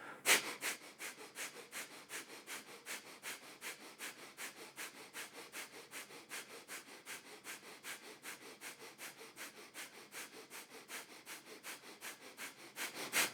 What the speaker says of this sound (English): Take a deep inhalation. Relaxing exhalation. Keep the heart lifted and begin the Breath of Fire.